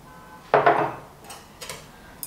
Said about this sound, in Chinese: 充分的搅拌均匀